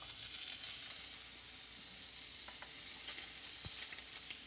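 Scallops sizzle steadily in a hot pan, a constant bright frying hiss with a few small pops and a light clink of utensil on the pan partway through.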